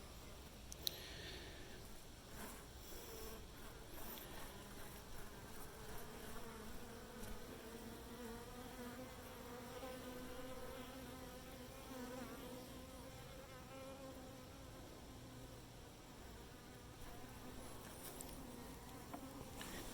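Honeybees swarm around an open hive, filling the air with a dense, continuous, wavering buzz that stays close and fairly quiet throughout.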